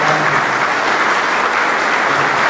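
Audience applause at a meeting of agriculture ministers in Buenos Aires: dense, steady clapping from a crowd, loud and sustained without a break.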